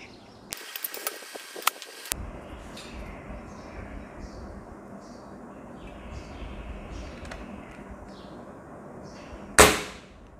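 A Spanish-made Norica Black Eagle .22 spring-powered air rifle fires one sharp, fairly quiet shot near the end, after an early stretch of hissy broadband noise and faint background sounds.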